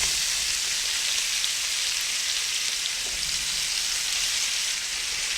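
Onions cooking in a tablespoon of butter in a pan give off a steady, even sizzle that holds unchanged from start to finish, close and fairly loud, with no voices over it.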